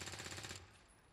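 A gunshot fires in the turn-based strategy game XCOM 2: a quick rattling burst of rapid shots, faint and distant, lasting about half a second before cutting off into quiet background.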